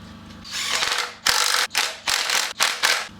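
A ratchet socket wrench works on the engine of a Series Land Rover under restoration, giving several close, loud bursts of rapid clicking separated by short gaps.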